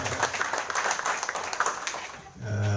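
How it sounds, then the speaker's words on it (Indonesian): An audience applauding at a local government gathering, a scattered patter of clapping for a couple of seconds that fades out and gives way to a low hum. "kita aplaus dulu buat semuanya"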